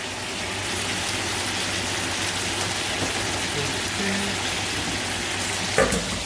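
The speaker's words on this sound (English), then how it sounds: "I'll put the spinach in there, wilt it down" Spinach wilting in a pan of sizzling chicken, making a loud, steady frying hiss that runs throughout, with a brief clatter near the end and faint talk underneath.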